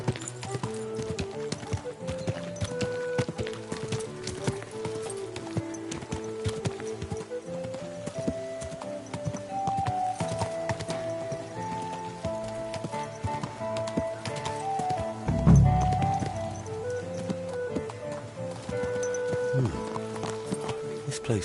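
Horse hooves clip-clop at a steady walking rhythm in Kingdom Come Deliverance 2, moderately near and continuous over the whole stretch, with game music and ambience underneath and a brief louder thump partway through.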